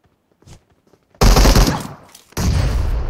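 Loud, dense bursts of rapid gunfire and blasts from a shooter video game, two heavy volleys after a few faint thumps, up close with no talking over them.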